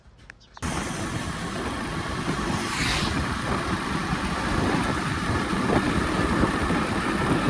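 A car engine starts after a brief quiet moment and then runs steadily close by, a continuous rumbling idle that holds at an even level to the end.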